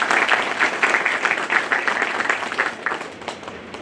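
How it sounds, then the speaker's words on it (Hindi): Loud, dense applause from an audience greeting Narendra at an enrollment event, a steady wash of many hands clapping close by, holding strong for several seconds before easing slightly. "जोरदार तालियों से नरेंद्र जी का।"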